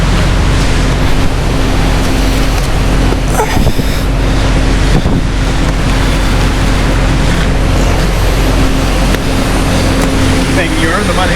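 Heavy rain pours down in a national park, a loud, dense, unbroken roar with gusty rumble, and muffled voices show up faintly beneath it.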